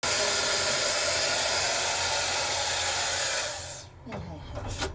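A hair dryer blows steadily at close range with a loud airy roar, then cuts off abruptly near the end, leaving a brief quieter tail with faint handling noise.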